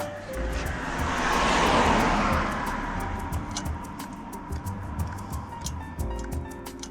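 A Honda Holiday FG201H tiller's small engine, stuck at full throttle because its throttle control won't stay back, roars continuously nearby with a steady high-revving drone that swells briefly early on.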